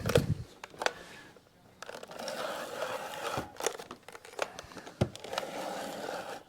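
An ATG model 750 tape gun dispensing double-stick tape onto a board, making close crinkling, peeling and scraping bursts with a few sharp clicks and snaps in between, without any talk.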